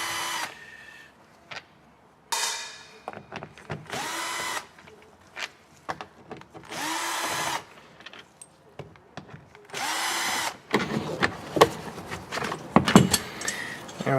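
Power driver removing small 5.5 mm bolts from the speaker cover inside a Ford F-150 door, short loud whirring bursts separated by pauses, with light clicks and rattles of parts between runs.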